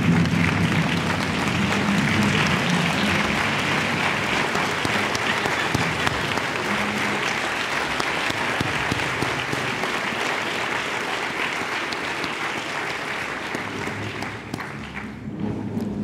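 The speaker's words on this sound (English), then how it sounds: "give a round of applause for all the elected officials that we have in the building today" An audience at a Columbus reception applauds elected officials in the room, a full, even burst of many hands clapping that carries on for about sixteen seconds and eases slightly toward the end.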